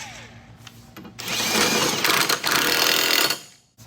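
An impact wrench with a 15/16 socket drives a bolt onto a Toro zero-turn mower blade, giving a loud, sustained buzzing rattle of about two seconds with a brief dip partway through, then cutting off.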